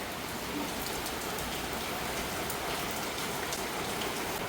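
Steady, dense rainfall pattering evenly on a surface, continuous and fairly close, with no voices.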